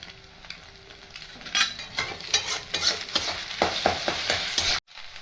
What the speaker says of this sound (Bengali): ডিমগুলো এরকম ছোট ছোট করে নেবো এরকম ভাজা হয়ে গেলে নামিয়ে নেবো